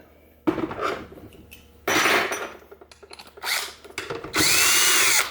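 A power drill or impact tool spins off the 10mm head bolts of the pan on a Corvette 4+3 Doug Nash overdrive transmission, in several loud bursts of whirring, each a second or less, separated by brief pauses.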